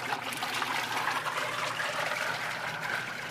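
A washing machine runs a 15-minute wash cycle on microfiber rags in a mobile detailing unit, giving a steady watery sloshing and trickling that sounds close and continuous.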